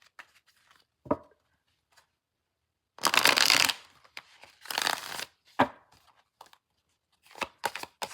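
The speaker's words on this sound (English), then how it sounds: "I am going to pull some What's the News cards for y'all." Tarot-style oracle cards being shuffled by hand, heard as several bursts of riffling and flicking: a short snap near the start, then longer crisp shuffles with quiet gaps between them, close and alone with no voice.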